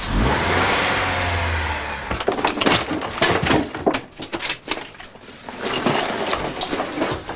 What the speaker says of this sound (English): The Cavalier had now turned round and drove off as the men emerged